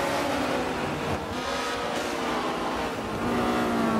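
Race cars launching at the start of a race at the Hockenheimring in Germany in Forza 7, a dense, steady roar of many engines blending into one loud, continuous wash of noise.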